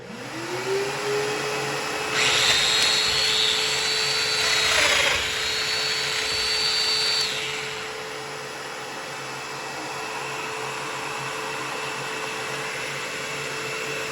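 A Festool Domino joiner spins up with a steady motor whine, rises in pitch and load during a plunge cut into wood, then is released and switched off, the motor winding down and a quieter hum continuing.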